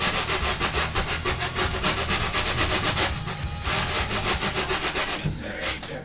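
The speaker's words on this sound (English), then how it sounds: "anywhere you see your muscle detail, just work your file" Hand file and grinding worked over the muscle detail of an impala taxidermy form, a close, steady rhythmic rasping of repeated strokes that keep going throughout.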